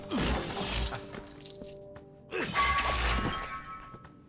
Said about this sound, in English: Gotta smash pots.